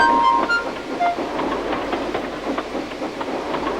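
A railway engine pulls away with rhythmic clickety-clack and steady rolling rumble, loud and close with a hissing edge and a couple of brief whistle-like tones at the start.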